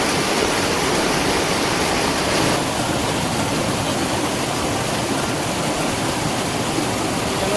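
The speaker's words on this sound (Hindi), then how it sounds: "खेतों में, रास्तों में आप देखिए इस तरह से पानी बहता हुआ आ रहा है" Heavy rainwater rushes down mountain paths and across fields in hilly Uttarakhand, a loud, steady broadband roar of flowing water that continues unbroken throughout.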